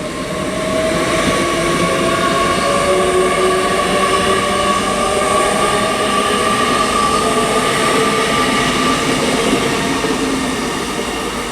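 A Class 800 train passes through Reading station on the Great Western Main Line, a loud, close, sustained rumble with whining tones that fades slightly at the end.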